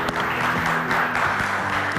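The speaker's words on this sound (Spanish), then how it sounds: "Fuerte el aplauso para Eugenia Aravena" A television studio audience applauds a guest being welcomed, a dense, even burst of clapping lasting a couple of seconds at moderate loudness.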